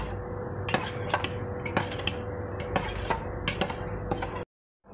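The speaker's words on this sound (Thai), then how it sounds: "เราจะคนนะครับคนให้ทุกอย่างให้เข้ากันนะครับ" Metal utensils scrape and clink against a pot while stirring a sugar mixture for Thai yen ta fo noodle sauce, in quick, irregular strokes, close and fairly loud, then stop abruptly.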